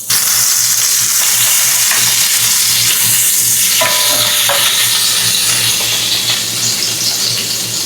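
Butter and oil sizzle hard in a frying pan before the hash browns go in, a loud, dense, continuous crackle and hiss close by, with no talking.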